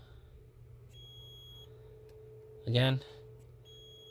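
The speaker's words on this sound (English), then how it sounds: "So if this thing beep, means that the wire is good" A continuity tester gives one short electronic beep, about a third of a second, while probing a Honda rear defrost heater wire, heard over a steady low hum with a brief spoken word just before.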